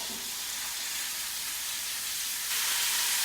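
Beef frying in hot oil in a pan or wok for a Chinese beef stew, giving a steady, soft sizzling hiss that grows slightly louder near the end, with no talking.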